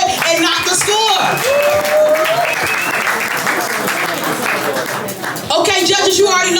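An audience applauds a poet at a poetry slam, with loud, sustained clapping and cheering, whoops and voices mixed in, dipping briefly before rising again.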